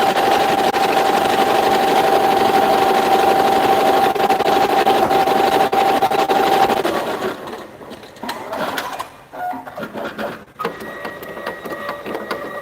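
A Halo embroidery machine runs fast with a steady, loud, even mechanical hum and buzz for several seconds, then slows and falls into irregular stops, clicks and short bursts as it finishes.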